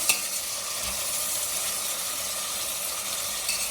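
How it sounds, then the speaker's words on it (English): Pre-boiled gadra beans being stirred in a hot frying pan, a continuous close sizzle and hiss of frying with steady scraping, no voices over it. "Now I'm putting the gadra beans, pre-boiled gadra beans, and then stir it."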